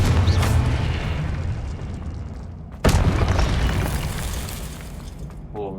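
Confringo spell blasts in the video game Hogwarts Legacy: a loud booming explosion with rumbling decay, followed by a second sharp blast and trailing roar, with a voice heard over the game sound.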